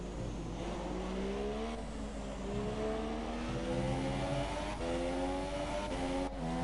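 F3 single-seater race car in a racing video game at the Azerbaijan round, engine whining high and rising, with pitch drops at gear upshifts, steady and loud throughout.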